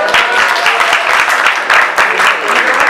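An audience bursts into steady applause at a science outreach talk, dense overlapping clapping filling the room for a few seconds without pause.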